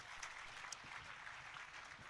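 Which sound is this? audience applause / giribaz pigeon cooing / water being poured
audience applause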